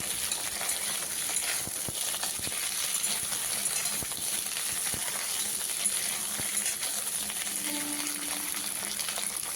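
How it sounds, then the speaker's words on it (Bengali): Flat beans fry lightly in hot oil, a steady close sizzle with occasional stirring clinks and no talking. "প্রথমে আমি শিমগুলো হালকা করে ভেজে নেব। শিমগুলো আমি বেশি ভাজবো না, 1 মিনিটের মতো ভেজে নামিয়ে নেব।"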